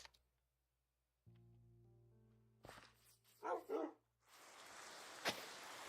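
A Minecraft dog gives a couple of short barks close by, after a quiet stretch with a low hum, then a steady rain-like hiss sets in.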